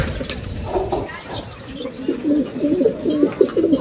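Racing pigeons coo in a loft, a run of soft, repeated throaty calls close by over a low rustling background.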